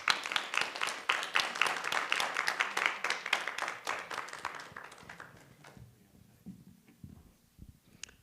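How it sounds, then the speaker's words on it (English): An audience at a congressional candidate forum claims a round of applause for the candidates, a dense burst of clapping that fades out over several seconds. "Let's give them a huge round of applause."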